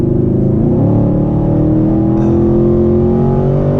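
A 2018 Chevrolet Camaro SS V8 engine accelerating, a loud, close, deep rumbling roar with rising tone, heard alone without talk.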